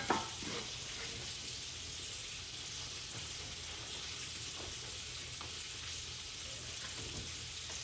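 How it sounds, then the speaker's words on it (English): Bacon frying in a pan, a steady dense sizzle and crackle running the whole time with a sharper pop at the start, close and fairly quiet, no talking. "So my bacon is finishing up."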